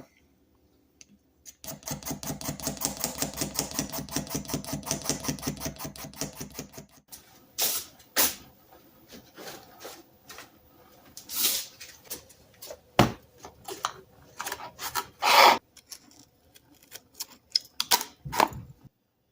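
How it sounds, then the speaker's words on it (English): A razor blade scrapes the handle of an antique Erie Tool Works wrench in a fast, even run of raspy strokes, then gives way to scattered sharp clicks and scrapes, close and clear. "the handle, we're all scraped down with a razor blade"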